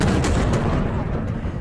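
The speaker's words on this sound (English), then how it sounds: "Footage shows a huge explosion at the Black Sea port." A huge explosion at a Black Sea port after a strike on a Russian warship in occupied Crimea, a loud sustained rumbling roar from a distance with some crackling at the start.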